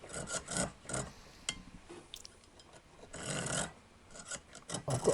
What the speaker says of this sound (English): And we just saw through it like so.